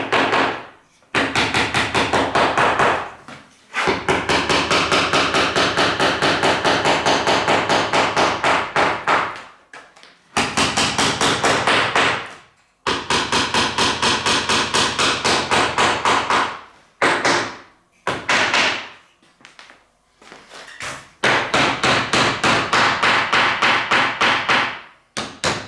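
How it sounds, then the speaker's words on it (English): Rapid, relentless metallic hammering with a metal hammer on a part of an 1865 Forster & Andrews pipe organ, in long bursts, loud and close, broken by brief pauses before the striking resumes. "I'm going to use this metal hammer. I'm going to be very, very careful."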